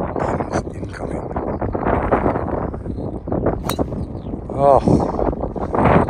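Strong wind gusting across the Eden Course links at St Andrews during a round of golf, roaring and buffeting the microphone steadily throughout, with a person speaking briefly over it.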